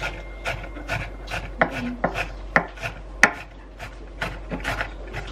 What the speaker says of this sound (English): I'm trying to thinly slice. And then I'm gonna mince.